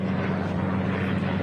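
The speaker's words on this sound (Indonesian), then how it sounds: "Helikopter Amerika." An American Black Hawk helicopter roars in a steady, loud rotor and engine drone with a low hum, no break in the sound.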